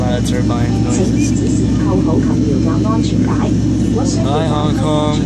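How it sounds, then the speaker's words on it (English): An airliner's jet engine turbines drone steadily from inside the cabin, a loud continuous roar with a whining tone, while people talk over it throughout. "I can hear a lot of engine now. A lot of turbine noises."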